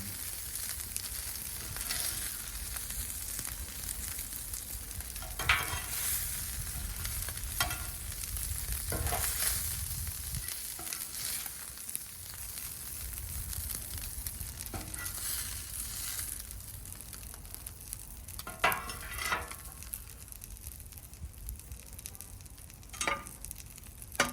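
Al pastor meat, jalapeños and onions sizzle on a 36-inch Blackstone griddle, a steady close hiss with occasional spatula scrapes and stirring knocks, no talking.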